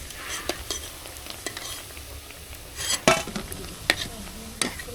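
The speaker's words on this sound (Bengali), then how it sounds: "এইভাবেই আমি সব পেঁয়াজি ভেজে ফেলাবো।" Onion fritters (peyaji) frying in a pan, a steady crackling sizzle with scattered louder pops and a few clinks of utensils against the pan, close by with no talking.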